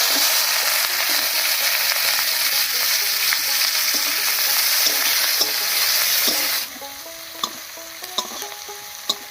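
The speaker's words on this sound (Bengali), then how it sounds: "এবার দেবো একটা তেজপাতা আর 3টে শুকনো লঙ্কা। এবার এর উপরে দেবো পেঁয়াজ কুচি।" Chopped onion, bay leaf and three dried chillies with whole cumin fry loudly in hot oil, a dense continuous sizzle with stirring scrapes that drops to a quieter crackle partway through, then sharp intermittent spatters.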